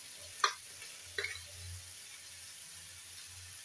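Spices such as coriander powder being stirred in a hot pan at home, a soft steady sizzle with a few sharp scraping clinks of the spoon, quiet and close with no talking.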